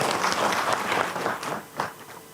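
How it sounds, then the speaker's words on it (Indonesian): An audience at a government coordination meeting breaks into dense applause, loud and sustained, then thinning and fading toward the end with a brief final swell. "Nah, tepuk tangan."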